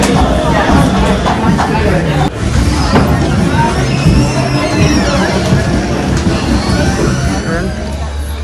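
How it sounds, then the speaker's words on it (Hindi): Loud, constant babble of a packed gondola restaurant in snowy Thredbo, many overlapping voices and clatter close around with no single talker standing out. "भीड़ भाड़ तो बहुत है।"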